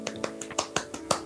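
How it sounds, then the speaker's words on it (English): A few soft, slow, polite claps of a golf clap during a photoshoot at a train depot, about half a dozen light, evenly spaced hand claps heard close and quiet. "Golf clap."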